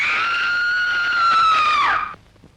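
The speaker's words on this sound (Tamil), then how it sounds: "உங்க பாட்டி ஏன் இப்படி அலறுகிறாள்?" An elderly grandmother in a Sivaji Ganesan film scene screams in one long, loud, high-pitched wail that holds steady, then bends downward and cuts off after about two seconds.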